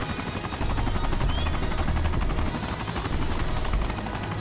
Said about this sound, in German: Bitte zerstöre diesen wunderschönen Heli nicht.